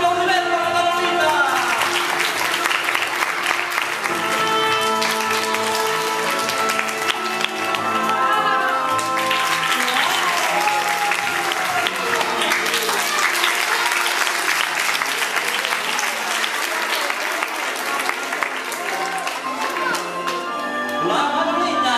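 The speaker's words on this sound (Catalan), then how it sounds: "Un aplaudiment per la Manolita!" An audience at a circus breaks into sustained, dense applause that carries on loudly from start to finish, with music playing underneath.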